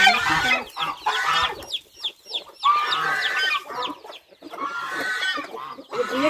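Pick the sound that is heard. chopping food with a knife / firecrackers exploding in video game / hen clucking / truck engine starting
hen clucking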